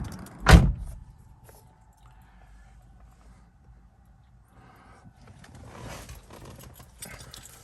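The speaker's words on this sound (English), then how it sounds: "pulling it once will unlock the door, pulling it again will open." Door of a Mini Cooper Countryman S ALL4 being unlocked and opened: one loud close thunk from the latch near the start, then quiet cabin ambience and a soft swishing rustle later as the door swings open.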